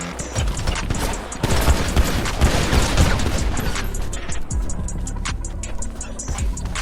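Video game gunfire in a street shootout, with dense rapid bursts of shots and crashes that are loud and continuous, thinning into scattered sharp reports near the end.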